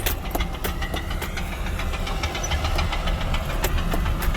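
A truck engine knocks with an uneven, rough mechanical patter as it drives slowly through greenhouses. The rumble stays steady and close with no voices.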